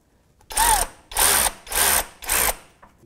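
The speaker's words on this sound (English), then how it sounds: "I'm going to give that a little tweak and tighten that up a little bit" Ratchet with a 10 mm socket tightening a radiator bolt on a 2001-2007 Volvo V70, four distinct bursts of rapid clicking, close and clear, with short pauses between strokes.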